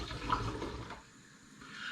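Three litres of apple juice pour into a cider brewing container, a steady liquid rush for about a second that then drops to a softer trickle before building again.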